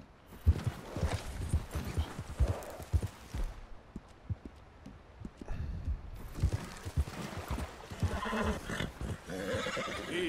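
A horse in a video game walking into water, with repeated hoof clops and splashy thuds, a whinny among them, and a brief quiet stretch partway through.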